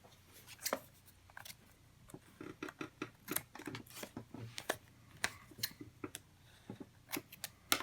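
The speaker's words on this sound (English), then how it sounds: "Give me a second to get some scissors" Scissors snip in short, sharp, close clicks, irregularly spaced and quiet, while crafting with washi tape at a table indoors.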